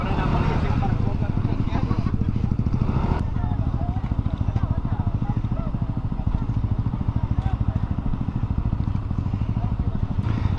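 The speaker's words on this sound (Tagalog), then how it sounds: "papasok na daw ang mga motor" Motorcycle engines rumble steadily nearby with a continuous throbbing drone as the bikes arrive on a ride in Bacolod, and people talk over the noise.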